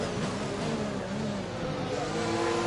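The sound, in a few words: F1 2021 video game race car driving into the pits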